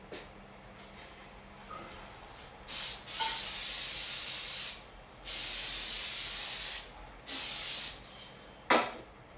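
Brake cleaner sprayed onto metal parts of an old pedestal light being restored, heard as three long steady hissing bursts of a couple of seconds each, close and loud, separated by short quiet gaps, with a sharp clunk near the end.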